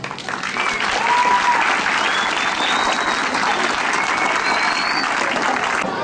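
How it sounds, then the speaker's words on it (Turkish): A crowd applauds at a road protest in Mersin, a loud, dense, sustained wash of clapping that swells early and holds steady, with faint whistles or calls above it. "Yürekten alkışlıyorum."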